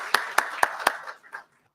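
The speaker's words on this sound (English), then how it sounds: "please give her a round of applause" Audience at a ZEDCON 2022 conference applauding an outgoing executive director with a few distinct, sharp handclaps in a quick steady rhythm that thin out and stop after about a second and a half.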